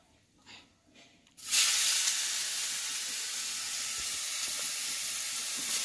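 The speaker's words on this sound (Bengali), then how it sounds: "এটাকে মা হালকা করে ভাজবে" Chhatu mushrooms dropped into a hot pan break into a sudden loud sizzle after a quiet start, then settle into a steady, close hiss of light frying that carries on alone with no talking.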